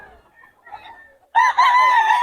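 Chickens at a poultry market in Bocaue, starting with faint scattered clucks before a loud burst of close rooster crowing and squawking fills the second half.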